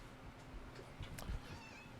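A cat gives a short, quiet meow close by, with faint room noise around it.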